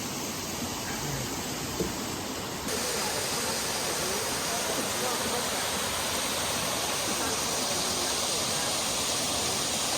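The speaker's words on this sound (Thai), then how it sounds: "อันนี้คือน้ำตกลานเสด็จ" Steady, loud rush of Lan Sadet Waterfall in Thailand, a dense broadband roar that continues unbroken throughout, close by.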